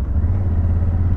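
Yamaha Super Tenere motorcycle sitting in neutral at normal idle, a steady low engine rumble, close and even, with no voices.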